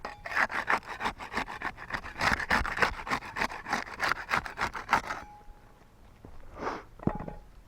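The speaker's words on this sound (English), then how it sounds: "We'll use the putty knife to unseal shingle 7 there." A putty knife is worked under asphalt roof shingles to break their seal, making a quick run of rhythmic, close scraping strokes that stop abruptly, followed by a few fainter scrapes.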